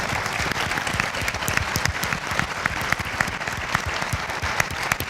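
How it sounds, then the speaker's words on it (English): An audience at an environmental forum on solar energy applauds, a thick, continuous clapping from a sizeable crowd that stays loud and even from start to finish. "Let's have a round of applause"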